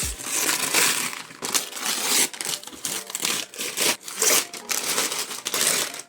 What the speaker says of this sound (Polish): muszę się do tego dobrać jakoś i ten piękny papier rozciąć